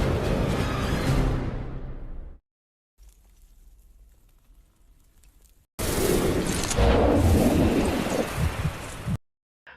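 A film storm scene in which a car is rammed and falls into a raging storm: heavy rumbling bursts of thunder and roaring wind come loud and close, broken by a quieter low stretch and abrupt cuts to silence, with no talk.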